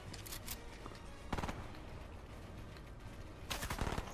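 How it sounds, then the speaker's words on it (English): Gunfire from the video game Fortnite comes in three short rapid-fire bursts: one near the start, one in the middle and a louder one at the end, with quieter background game sound in between. "I'm getting shot."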